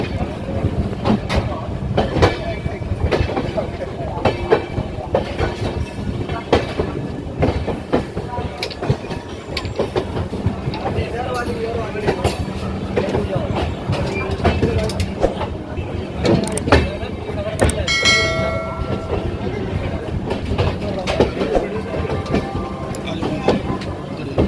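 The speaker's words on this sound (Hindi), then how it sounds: "राइट टाइम ट्रेन पहुंच चुकी है वाराणसी स्टेशन पे।" An Indore–Patna express train pulls into Varanasi junction, its steady rumble and clickety-clack of wheels continuous and close throughout, with voices talking over it on the platform.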